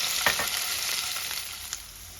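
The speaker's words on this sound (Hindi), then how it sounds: "मैंने पनीर के पीसेस कर लिए थे, उनको मैं तेल में डाल के हल्का फ्राई कर लूंगी।" Paneer pieces frying lightly in hot oil in a pan, a continuous bright crackling sizzle heard up close, with a few sharper pops and spatters standing out from the steady hiss.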